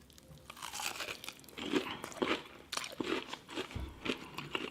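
Crunchy bites into giant prawns fried in a hot Cheeto batter, several sharp crackling crunches in irregular rhythm, close and fairly quiet, with no talking.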